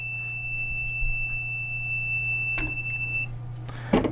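A Sidewinder X1 3D printer's filament sensor alarm sounds a continuous high-pitched electronic beep for about three seconds before it stops, over a low steady hum, with faint handling noises afterward.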